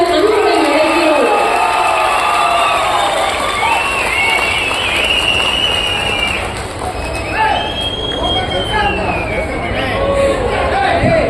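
An audience at a memorial hall opening ceremony in Jayaramapuram, Erode, welcomes the Tamil Nadu Chief Minister with loud, sustained applause and cheering that swells and continues throughout, with voices mixed into the noise.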